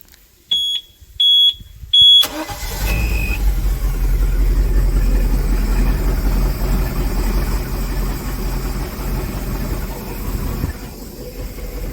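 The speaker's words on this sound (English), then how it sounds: "We're gonna shift forward and backwards, and we'll start the engine." A Volvo Penta 5.0GL sterndrive boat engine, after a few short high beeps, cranks and catches, then settles into a loud, steady low rumble that runs for about nine seconds before dropping off near the end.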